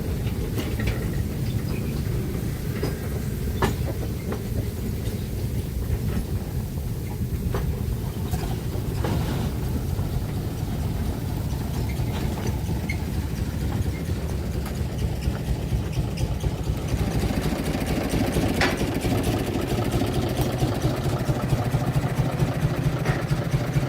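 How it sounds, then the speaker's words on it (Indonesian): Small locomotive number 5 on a sugarcane railway runs steadily behind loaded cane carts hauled by a larger engine, a continuous mid-pitched engine drone with rattling, close and fairly loud, no talking. "Lokomotif kecil nomor 5 menyusul di belakang lori bermuatan tebu yang ditarik oleh lokomotif besar nomor 10."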